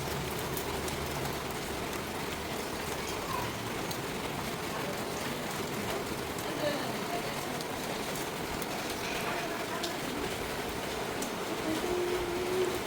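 Steady rain falls and patters on surfaces nearby, a continuous even hiss that holds at a moderate level for the whole stretch, with no talk over it.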